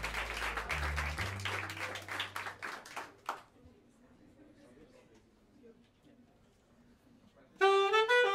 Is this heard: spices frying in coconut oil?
no